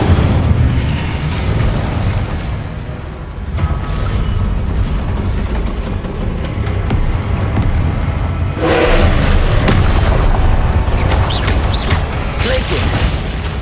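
Explosive Confringo spell blasts from Hogwarts Legacy gameplay on Xbox Series X, loud booming bursts over a dense, continuous game soundscape, with a sharper eruption near the middle.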